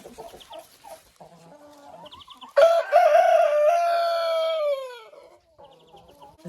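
Leghorn chickens in a backyard run make soft scattered clucks before a loud, close, drawn-out crow that rises and then trails downward over about two seconds, followed again by quiet clucking.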